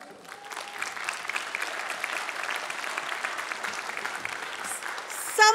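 An audience at a fall convocation ceremony applauds and cheers for graduates, steady clapping from a large crowd filling the hall with a sharper burst at the end.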